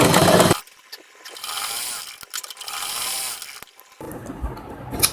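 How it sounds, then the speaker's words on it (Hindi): A sewing machine stitches the hem of a blouse sleeve cuff with lace-coloured thread, giving bursts of fast mechanical ratcheting clatter with brief pauses between runs, close and fairly loud. "चलिए बाजू की मोहरी की सिलाई लगाते हैं।"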